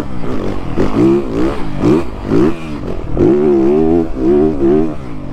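A Triumph enduro motorcycle engine revs hard, its pitch repeatedly climbing and falling in quick surges, loud and close with a raw, throaty tone.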